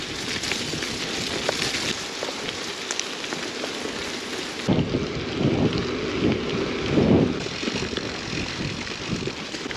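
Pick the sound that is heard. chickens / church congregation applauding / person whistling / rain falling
rain falling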